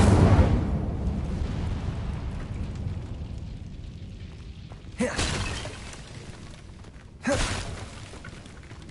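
Incendio fire spell cast in Hogwarts Legacy, a game set at Hogwarts: a loud rumbling whoosh that fades away, followed by two sharp, bright bursts near the end.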